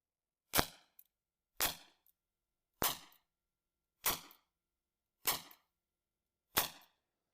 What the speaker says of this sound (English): Let's shoot again and see.